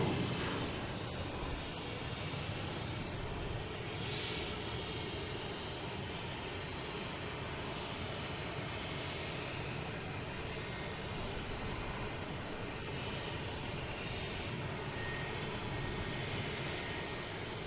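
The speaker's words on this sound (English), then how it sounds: "That's American Airlines coming in from Chicago, 737-800." An American Airlines Boeing 737-800 arriving from Chicago at Boston Logan gives a steady, broad jet roar that holds level throughout, moderately distant with no voices over it.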